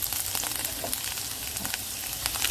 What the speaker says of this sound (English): So first I'm going to place the ginger, alright, and let it fry up a little.